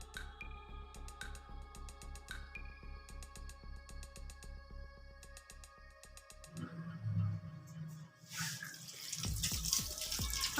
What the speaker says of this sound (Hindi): अभी हम इनको इस तरह अच्छे से धो लेंगे।